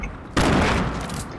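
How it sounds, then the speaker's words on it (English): A single loud pump-shotgun blast in Fortnite goes off sharply after a short pause and decays through a brief ringing tail. "Let's take my shotgun. My pump."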